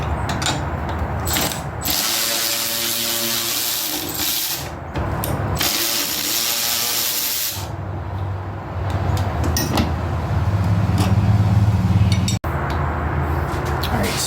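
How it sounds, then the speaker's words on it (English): A power tool removes half-inch bolts from a zero-turn mower handle, with loud whirring bursts broken by short pauses and a ratcheting, grinding texture, close and continuous throughout. "So to start, we're going to remove these bolts here."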